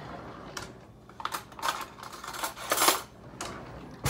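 A metal spoon being picked up and handled in a kitchen while preparing lemongrass in oil, giving a string of light clinks and taps of varying loudness, close and otherwise quiet.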